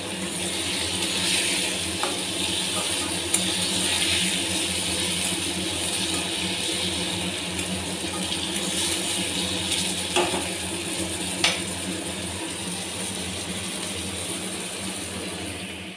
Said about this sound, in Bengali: আর এই যে তেল গরম হয়ে গেছে। মাছগুলো ছেড়ে দিয়ে মানে গ্যাসটা একদম লো করে দেবো